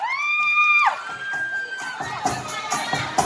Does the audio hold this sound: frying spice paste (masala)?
no